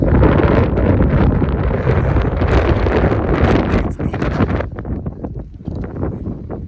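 Strong wind on the Pacific Crest Trail in the Sierras roars loudly into the microphone with heavy buffeting, easing somewhat toward the end into gusty rustling.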